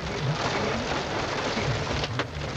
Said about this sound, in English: This storm completely got me.